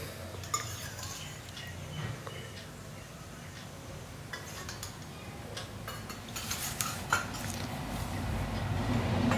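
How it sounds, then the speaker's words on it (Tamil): A spoon stirs boiling guava jam with lemon juice in a pot, giving scattered clinks and scrapes against the metal over a low bubbling simmer. "இதுவும் கலந்து விட்டுட்டு கொதிக்க விடலாம்."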